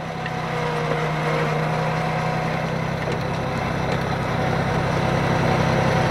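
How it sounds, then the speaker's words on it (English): A tractor engine idles at low throttle while topsoil is dug out for a new driveway. It makes a steady, even hum with a low drone and stays moderately loud and constant. "Probably should have throttled the tractor up just a smidge more."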